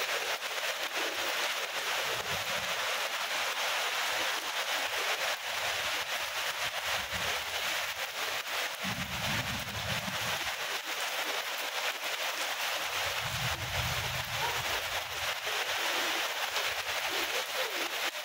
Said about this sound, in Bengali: বাতাসও হচ্ছে, বৃষ্টিও হচ্ছে।